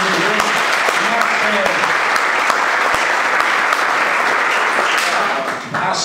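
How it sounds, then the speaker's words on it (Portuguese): Loud, sustained applause from an audience at a product launch presentation in a hotel in Goiânia, dense continuous clapping that holds steady and only dips slightly near the end, with some voices mixed in. "Então eu queria que vocês dessem uma forte salva de palmas para esse grande líder"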